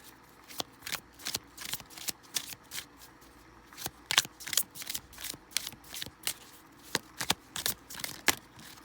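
A tarot card deck being shuffled by hand, a steady run of crisp riffling bursts close by, some louder flurries midway, with no talking.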